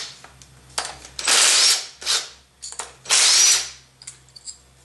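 A power tool whirs in short bursts to back out a 10mm coil pack retaining bolt on a Volvo S70 2.4T engine, with a few separate spins of rising and falling intensity, close and loud with brief gaps between.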